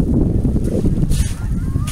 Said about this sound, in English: there's a big flock of geese flying in a V formation